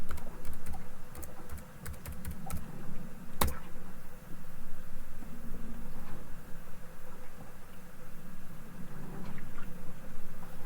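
Close computer keyboard typing while a password is entered during a plugin install, with a quick burst of key clicks followed by a few scattered taps over a faint room background.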